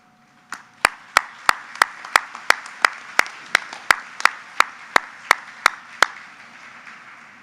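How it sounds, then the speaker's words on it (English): About fifteen sharp, evenly spaced claps ring out alone and fairly close, as graduates at a spring commencement ceremony turn to applaud their family and friends. "Graduates, this is your opportunity to turn around and give your applause and your thanks to your family and friends"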